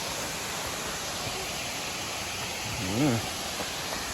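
Khun Korn waterfall in Chiang Rai roars as a steady, broadband rush of falling water that fills the whole clip, with a brief voice-like sound near the end.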